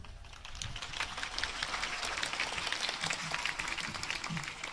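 Applause from a crowd gathered for a Hari Santri commemoration, a steady, fairly distant patter of many hands clapping that holds level for several seconds.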